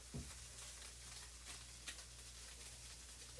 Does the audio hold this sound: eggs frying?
yes